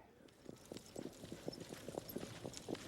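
Racehorses galloping past on a track in rural Georgia, a rapid rhythmic drumming of hooves building as they approach, fairly faint and distant, with a low murmur of voices behind.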